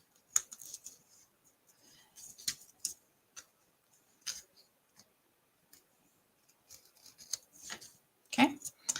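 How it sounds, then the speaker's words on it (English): Scissors trim washi tape on a handmade bookmark with a scattering of small, quiet snips and clicks at a close craft table, separated by pauses, ending in a sharper cut. "use these scissors to just trim that up"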